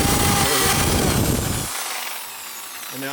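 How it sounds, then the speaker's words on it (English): A drill bores loudly into a rubber snowmobile track to make holes for traction studs, with a dense grinding whir that cuts off sharply partway through, leaving a quieter, fading whine. "we're just gonna drill out all of the doubles now as we go along here"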